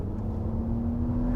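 A Porsche Cayenne E-Hybrid Coupe accelerates in sport mode, a steady low engine hum with a rising whine, close and continuous for a moment.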